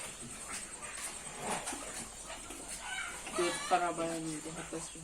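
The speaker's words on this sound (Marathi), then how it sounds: "कोंबड्यांचा दंगा किती चाललाय" Chickens cluck and squawk in a busy commotion in a dairy farm shed, with a voice talking over them and scattered background noise.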